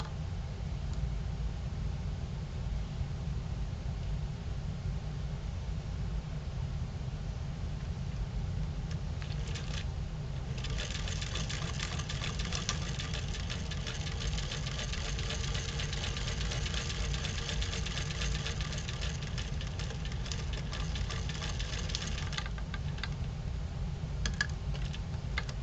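A sewing machine stitches fabric for a wooden ventriloquist dummy body, its rapid mechanical clatter running steadily for about twelve seconds over a constant background hum, with no talking.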